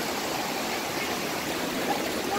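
Rushing water roars as a steady, broadband hiss from Zapata Falls in Colorado nearby, with no voices.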